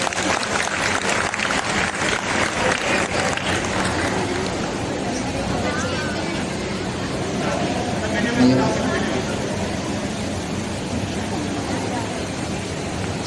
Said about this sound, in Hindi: सर बिलाल के लिए वही तालियां हैं।